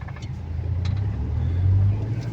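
A car's engine hums low and steady as the driver works the clutch and brake to bring it to a stop on a narrow hill road, the idle rumble close and even, swelling slightly near the end.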